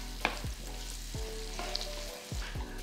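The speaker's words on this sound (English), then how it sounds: "now that my pancetta is beginning to crisp up, what I would do now would be to add my minced garlic" Minced garlic stirred into crisping pancetta frying in a pan for spaghetti carbonara, giving a steady close sizzle with a few soft scrapes and clicks of the spoon against the pan, with no voices.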